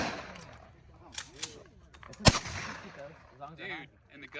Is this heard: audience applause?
no